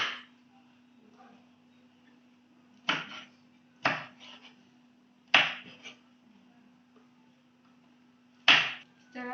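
Knife chopping spice ingredients on a board, several sharp separate knocks at irregular intervals over a quiet steady hum, close and alone.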